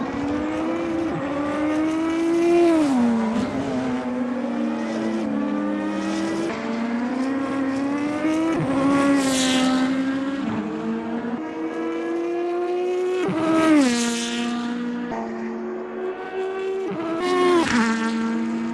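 Super GT race cars at Fuji in Assetto Corsa, engines screaming loudly with rising and falling revs as several cars pass and shift gears in turn, near and continuous without talk.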